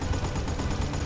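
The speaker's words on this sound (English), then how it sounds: "Freedom bullets are firing." Rapid gunfire in the shooter Battlefield Bad Company 2, a dense continuous burst of shots, loud and close throughout the short moment.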